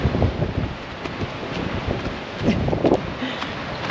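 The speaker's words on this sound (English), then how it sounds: "She's bloody windy." Strong coastal wind near Merimbula, New South Wales buffets the microphone in heavy, roaring gusts, with rustling in the background.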